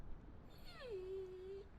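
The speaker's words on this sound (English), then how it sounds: "The puppy is asking for your help." A puppy gives a single drawn-out whimper in a Reverse 1999 video game trailer, a thin wavering whine that slides down and holds over a faint low background bed.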